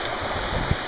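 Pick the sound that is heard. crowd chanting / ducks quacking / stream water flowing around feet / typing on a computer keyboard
stream water flowing around feet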